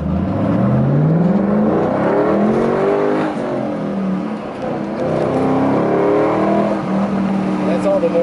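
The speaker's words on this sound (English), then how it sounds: "It's a fast car. And it has a nice sound" A 2005 Ford Mustang GT with a five-speed manual accelerates, its engine note climbing in pitch through a rev, dipping briefly and climbing again, loud and close from inside the car, with a voice speaking over it.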